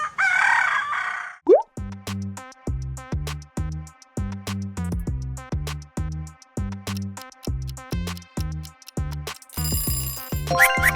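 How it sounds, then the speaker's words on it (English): A rooster crows repeatedly, close and loud, in a steady series of sharp, evenly spaced calls with brief gaps between them. "Of course, rooster."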